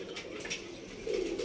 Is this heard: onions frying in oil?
no